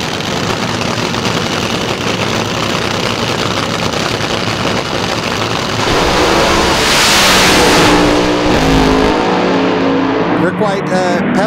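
Front-motor A-Fuel dragster at a drag strip, its engine roaring steadily then surging louder as the car launches down the track, with a commentator talking over the racket.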